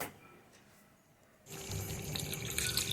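Hot water pours into a pot of chicken curry in a home kitchen, a soft hiss suddenly swelling into a steady, loud splashing rush that continues to the end, with no talk.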